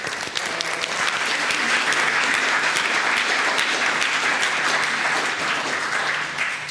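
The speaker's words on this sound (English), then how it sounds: "Can we give them a round of applause?" Sustained, full applause from a forum audience thanking a panel, dense and even for several seconds before tapering slightly at the end.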